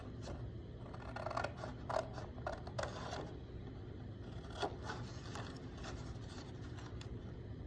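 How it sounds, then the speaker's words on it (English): Close snipping of scissors cutting paper, a series of crisp irregular cuts over a constant low background hum. "Then you're gonna take your scissors. I'm gonna cut out"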